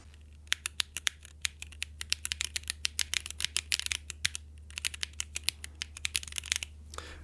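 Rapid close-up keystrokes clatter on a mechanical keyboard built on a custom PCB, with uneven bursts of sharp clicks over a low steady hum, no talking.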